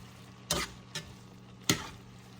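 Flour stirred into a meat pie filling of minced meat, three soft scraping spoon strokes against the pan, faint and close with quiet gaps between them and no talking.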